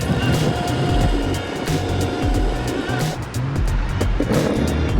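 Exway Wave electric skateboard with Riot drive rolling through downtown Fresno, a continuous rumbling whir of wheels and motor over pavement with wind noise and scattered clicks from bumps, loud and close.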